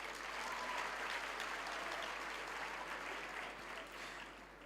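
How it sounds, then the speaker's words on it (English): Steady applause from a graduation audience at Walter Sisulu University, honoring parents and funders: dense, even clapping throughout that eases slightly near the end, with no voices over it. "let's give a round of applause to our parents and our funders"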